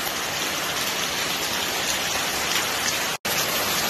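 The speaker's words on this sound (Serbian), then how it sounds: "Gledaj kako pada kiša." Heavy rain pours down steadily during a cloudburst storm in the Rasina district village of Gornja Velika Vrbnica, a dense continuous roar close by with one brief dropout near the end.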